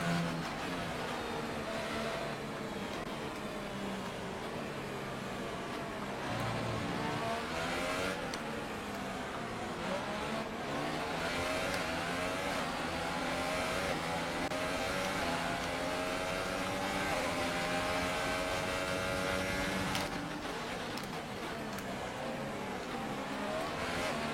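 Race cars roar through traffic in a racing video game, engine drones rising and falling continuously with passing cars, loud and steady throughout with no talk.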